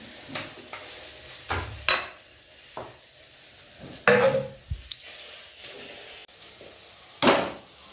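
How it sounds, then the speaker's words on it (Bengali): A cooking pot of drumstick vegetable curry clanks onto the stove amid scattered metallic knocks and clinks of utensils, with sharp, close, irregular impacts separated by quieter pauses. "এদিকে সজনে ডাঁটার সবজিটা আমি বসিয়ে নিই।"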